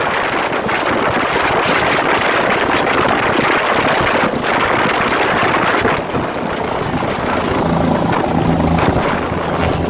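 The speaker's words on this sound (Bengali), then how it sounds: "আমি আপনাদের দেখাচ্ছি হেলিকপ্টার" A helicopter flies close by with a loud, continuous rotor roar, mixed with heavy wind buffeting the microphone, and no voices are heard.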